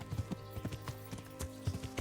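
Horse hooves clip-clop in a steady rhythm in the medieval game Kingdom Come: Deliverance, moderately close and unaccompanied by talk, with a faint low ambient hum underneath.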